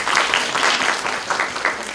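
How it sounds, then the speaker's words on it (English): A brief burst of audience applause at a college event welcoming a guest speaker, moderately loud clapping with slight pulsing swells, heard on its own without talk. "Please give him a big round of applause."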